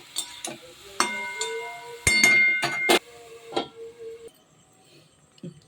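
A lid goes onto a pan of vegetables mixed with a little turmeric, giving a few sharp metallic clinks and a brief rattle close by, then near quiet.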